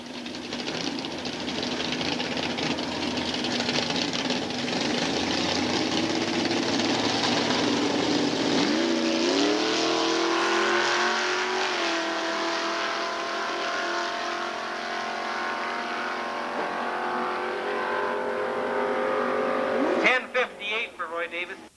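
A brand new race car with a 477 cubic inch big block Chevrolet engine, heard at a loud, steady roar that rises in pitch as it accelerates, then cuts off abruptly near the end.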